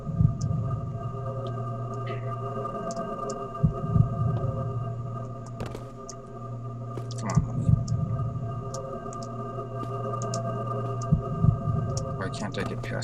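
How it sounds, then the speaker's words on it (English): A slow, heavy heartbeat thumps in a room in the Thief: Deadly Shadows video game, sounding in paired low pulses a few seconds apart over a steady droning hum, with someone talking over it. "I do not understand the heartbeat in the room"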